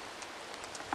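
Rain falls on a camping tarp during a wet bivouac, a faint, even hiss with soft scattered drop taps, no one speaking.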